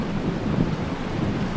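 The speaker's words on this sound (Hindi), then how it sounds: "बारिश भी रुकने का नाम नहीं ले रही है।" Heavy rain pours down in a dense, unbroken roar with a deep rumbling undertone, steady and loud throughout, with no voices.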